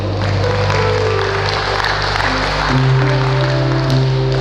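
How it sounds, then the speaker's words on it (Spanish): A church congregation applauds during a Sunday service, a steady wash of clapping held over a low sustained musical drone that shifts pitch partway through. "Dale un aplauso al Señor."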